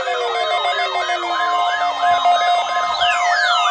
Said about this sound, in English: The preceding signal was a test of the NOAA